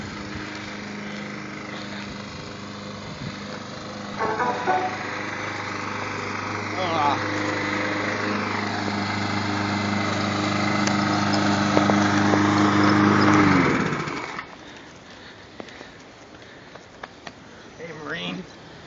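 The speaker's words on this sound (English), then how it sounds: "There's Dad mowing the lawn." A lawn mower running in a yard outside a house, a loud steady engine drone that swells and then cuts off sharply near the end, leaving quieter background sounds.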